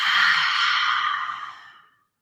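A long, breathy exhale out through the mouth during a calming yoga breathing exercise, steady and close, trailing off softly over about two seconds.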